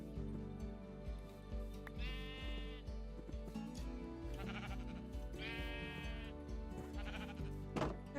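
Blocky Minecraft 1.21 sheep on a sheep shearing farm give repeated bleats, about five short wavering cries spread across a low steady backdrop, fairly close and clear.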